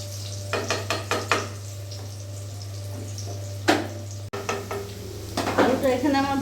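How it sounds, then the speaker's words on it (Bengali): Potato pieces seasoned with salt and turmeric being stirred in a frying pan, a series of sharp spatula scrapes and clinks against the pan over a faint sizzle and steady background hum, with brief muffled voice. "আলুটা এখানে আমার ভাজা ভাজা হবে"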